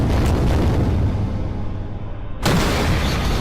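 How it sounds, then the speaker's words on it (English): A loud, sudden blast bursts out after a stretch of rumbling noise and pounding on an elevator roof, a broadband boom that fills the space with roaring debris-like noise as the roof breaks. "a massive explosion breaks the elevator roof"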